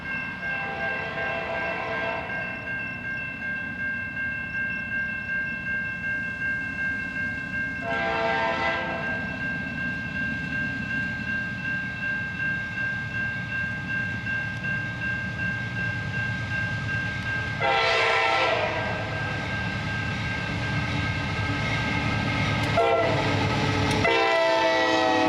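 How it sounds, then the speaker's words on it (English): Norfolk Southern NS-120 manifest freight train, a daily Kansas City to Detroit run, rumbling past near a diamond crossing with several loud blasts of its horn over a steady roll of wheels and cars. "That indication was for NS-120, daily manifest from Kansas City to Detroit."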